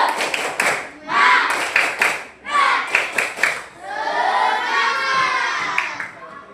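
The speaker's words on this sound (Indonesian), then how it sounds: "Tepuk semangat." Schoolchildren in a classroom perform a 'tepuk semangat' clapping chant, bursts of rhythmic claps and shouted voices in several quick rounds, ending in a sustained loud group cheer.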